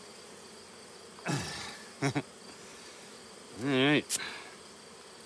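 Honey bees buzzing around a backyard honey harvest, a few short passes and one longer buzz flying close by the microphone, with brief speech between them.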